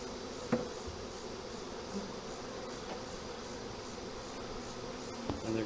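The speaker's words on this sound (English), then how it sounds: "brush these bees off as best I could" Honeybees buzz around an opened hive during a pre-winter inspection, a steady dense drone close by, with a few soft knocks and bumps from handling the frames.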